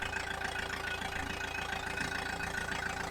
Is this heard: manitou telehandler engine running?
yes